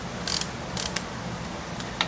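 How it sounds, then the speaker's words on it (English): A torque wrench tightens bolts on a hot rod, giving a few close, crisp ratcheting clicks in short bursts over a steady background hum. "Get a torque wrench. What I like to do is I like to snug one side down"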